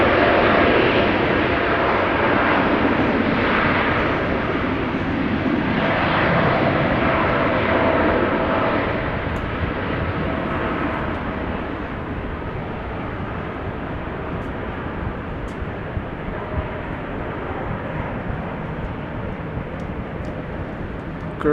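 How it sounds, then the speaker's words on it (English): Boeing 787-10 Dreamliner airliner on its takeoff run at Amsterdam Schiphol, a loud, steady broadband engine roar that holds strong for about ten seconds, then eases slightly as the jet climbs away, with no talk over it. "up for 565 to Nairobi, Kenya. 787-10 Dreamliner, the PH-BKL."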